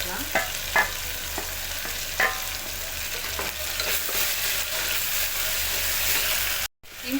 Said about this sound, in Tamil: இஞ்சி, அதையும் சேர்த்து நல்லா வதக்கிக்கலாம்.